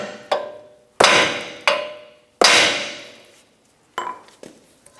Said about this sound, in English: to remove this out of the knuckle, we're going to hit this area with a hammer